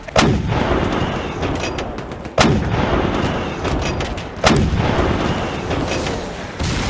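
Astra Militarum artillery fires three heavy, booming shots at even intervals about two seconds apart, each a sharp, loud blast trailing into a rumbling roar, with no voices.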